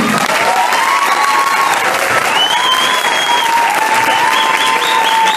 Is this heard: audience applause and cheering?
yes